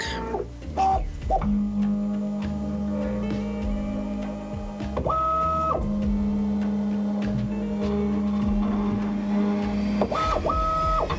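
A Bambu X2D 3D printer's stepper motors whine during calibration in sustained tones that jump between pitches, with clicks and ticks in between, close by and alone.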